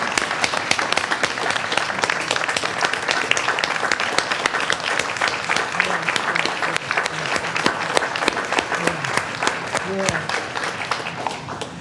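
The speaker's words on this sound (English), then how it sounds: "can we give one big round of applause for all of our individuals that's constantly working and serving?" Applause at a board of education meeting, a dense, steady patter of many hands clapping that runs loud and continuous for the whole stretch, with a few voices faintly mixed in.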